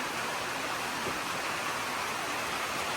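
Steady rain falls in the mountains, a soft, even hiss of drops with no pauses, fairly faint and alone.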